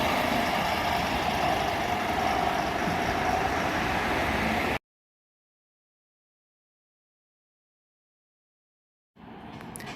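A bus idles and rumbles in a steady low drone as it pulls into a stop in Cheltenham. The sound cuts to silence partway through, then the engine noise returns near the end.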